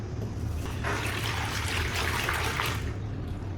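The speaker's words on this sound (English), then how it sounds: "I mix a simple solution: warm water with a bit of dish soap" Warm water poured into a container for a dish soap cleaning solution, a steady close splashing trickle lasting about three seconds before tapering off.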